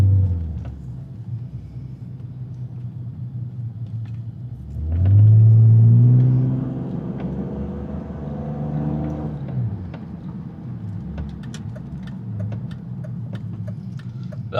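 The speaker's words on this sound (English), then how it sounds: "The car's still idling weird." A BMW E39 car engine idles unevenly, a low rumbling hum with a brief louder surge and rising rev partway through before settling back to a rough, steady idle.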